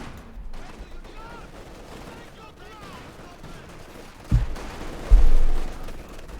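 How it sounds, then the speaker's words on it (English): Light machine gun fire in Company of Heroes 2, a Soviet and Wehrmacht battle with Guardsmen firing, crackling at a distance under steady battlefield noise, then two louder booming bursts near the end. "Guardsmen constantly wreck the party with light machine gun fire."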